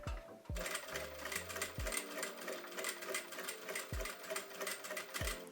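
Sewing machine running steadily while top stitching the double-folded sleeve edges of a feather robe, a continuous close mechanical whir with a few soft low thumps of fabric handling.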